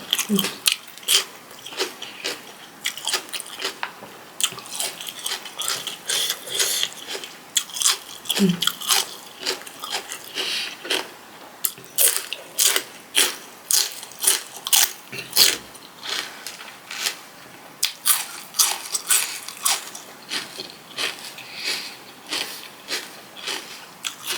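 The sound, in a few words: crunchy biting and chewing while eating salmon konjac noodle salad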